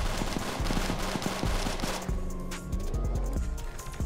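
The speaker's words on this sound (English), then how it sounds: "Wait, who you shooting at?" Rapid gunfire in a Roblox GTA-style hood video game, dense bursts of shots rattling continuously over game noise and music.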